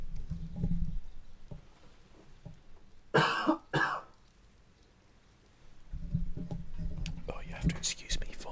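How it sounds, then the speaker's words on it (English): One harsh, close cough breaks out in two quick bursts amid quiet, soft whispering before and after. "you have to excuse me for the cough there"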